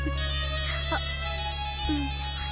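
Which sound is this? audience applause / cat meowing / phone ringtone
phone ringtone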